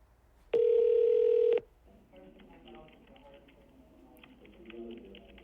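A phone dials out to an AI voice assistant for a law firm: one loud, steady dialing tone lasts about a second, then softer, faint tonal chirps follow. There is no talk.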